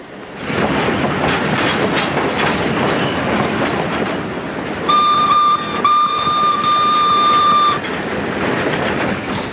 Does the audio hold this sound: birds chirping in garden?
no